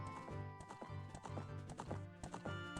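Epona the horse from The Legend of Zelda: Ocarina of Time, her hooves clip-clopping in a steady rhythmic gallop over game music, close and clear with no talking.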